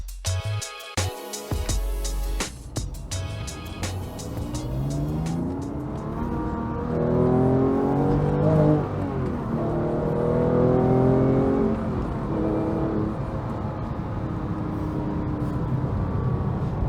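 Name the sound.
Porsche 911 GT3 Clubsport cars being driven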